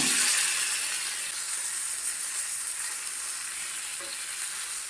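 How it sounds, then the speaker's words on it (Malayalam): Fish pieces fry steadily in hot oil in a pan for a fish curry, giving a continuous bright sizzle that eases slightly over a few seconds, with a brief stir or clink near the end and no voices. "എണ്ണ ചൂടായ ശേഷം മീൻ ഇതിലേക്ക് ഇട്ട് കൊടുക്കാം തിരിച്ചും മറിച്ചും ഇട്ട് വറുത്തെടുത്ത് മാറ്റി വെക്കാം"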